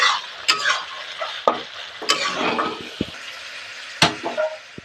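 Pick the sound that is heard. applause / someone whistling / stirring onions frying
stirring onions frying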